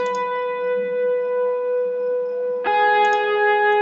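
Sustained electronic tones ringing out with heavy reverb and echo, a brief shift partway through as a new chord swells in.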